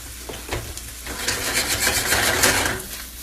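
Shrimp and vegetables dropped into a hot stir-fry pan, a broad steady sizzle swelling as they land and holding close and moderately loud for a few seconds, with no voices.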